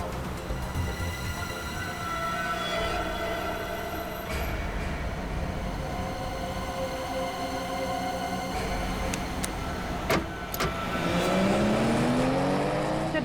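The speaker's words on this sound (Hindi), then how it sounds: "स्लो चलाओ गाड़ी सिद्धांत।" Vehicle rolling along at speed, a steady loud rumbling road and engine drone with mechanical whine, rising toward the end, with no talking.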